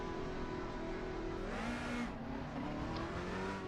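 A racing-simulator car pulls away in first gear. The engine hums steadily, then its revs climb briefly partway through. The sound is faint and continuous, with no voices.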